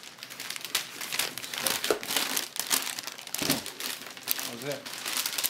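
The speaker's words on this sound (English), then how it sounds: "Got some packaging material here." Packaging material from a Leopold tenkeyless keyboard unboxing crinkles and crumples close up in bursts throughout, with a voice speaking over parts of it.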